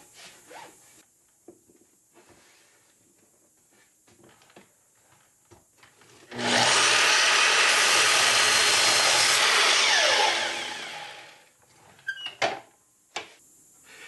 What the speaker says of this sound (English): Now I'm just going to cut them to length.